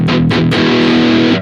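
Three quick chugging hits of heavily distorted electric guitar through an Engl Savage amp model on a Fractal unit, then a sustained crunchy chord ringing out loud and close.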